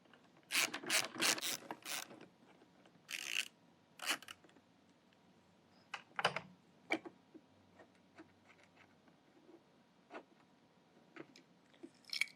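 A hand ratchet clicks in short bursts, loosening the half-inch bolts holding a caster wheel on a Tennant Boss 2000 LE floor machine, close and crisp with pauses between runs of ratcheting.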